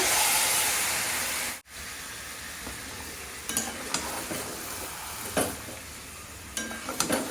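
Chicken frying in a pan after a splash of water, with a steady loud sizzle and hiss, a brief cut, then intermittent scraping stirs of a spatula against the pan over continued sizzling.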